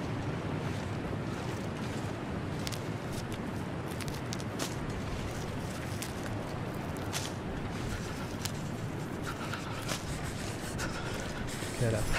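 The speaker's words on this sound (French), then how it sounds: "Et ce vent tout le temps" Cold wind roars and gusts without pause across the snowy wilderness of the survival game The Long Dark, a dense, steady rushing noise with faint scattered clicks riding over it.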